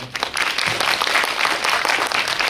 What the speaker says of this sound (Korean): 이 자리를 빛내주신 5분의 감독님들께 마지막으로 다시 한번 큰 박수 부탁드립니다.